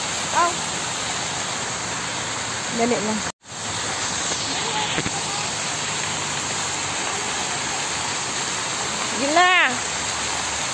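Water flows continuously at a fountain at Emirates Palace, a steady broadband rush heard close, with brief spoken words and an excited voice rising near the end.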